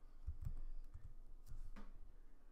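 Keys clack on a Mac computer keyboard while a web address is typed into Safari, a handful of soft, irregular taps spaced apart, quiet and close with no talk.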